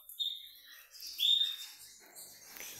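Pet birds chirping indoors, a few short high tweets and trills near the start and middle, fairly faint, with soft background noise and some rustling toward the end.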